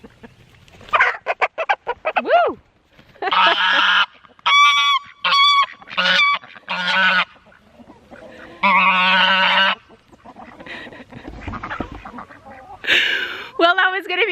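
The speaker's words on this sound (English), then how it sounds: "let you guys hear all the beautiful sounds these poultry make" Farmyard poultry calling close by: a goose honks in loud repeated bursts while chickens cluck and a rooster crows among them, with a person giving a brief shout and some talk.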